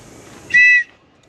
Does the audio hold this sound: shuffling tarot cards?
no